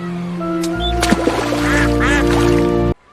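A duck at a water park quacks in a couple of short, nasal bursts near the middle, over a steady electronic hum and background tones, fairly close, then the sound cuts off abruptly.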